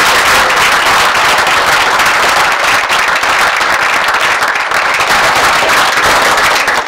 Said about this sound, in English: So for that alone, we're going to start with a round of applause.